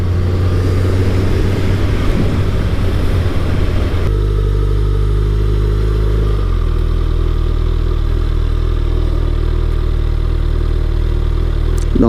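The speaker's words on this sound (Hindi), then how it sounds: "आप फुल थ्रॉटल दे के रखेंगे तो 8000 से ऊपर नहीं जाएगा।" A 2021 Suzuki Hayabusa motorcycle engine held at full throttle against its launch-control limit, a loud steady droning rev that steps down abruptly partway through and keeps humming close by, with no talk.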